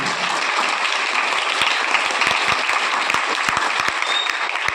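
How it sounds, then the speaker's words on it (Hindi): Loud, sustained applause from a school audience honouring the guest speaker at a motivational speech event, dense steady clapping throughout with no voices over it. "एक बार जोरदार तालियों के साथ गुरुदेव के लिए"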